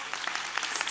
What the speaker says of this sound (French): juste un applaudissement énorme pour Mathilde qui nous accompagne